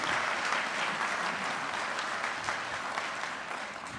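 Sustained round of applause from a conference audience at a Pacific Islands public auditors' gathering, steady dense clapping filling the hall at even volume throughout without talk.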